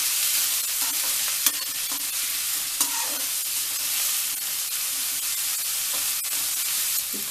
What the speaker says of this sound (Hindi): उसके बाद हम इसमें डालेंगे गोभी कटी हुई बारीक, इसको भी थोड़ा सा फ्राई कर लेंगे।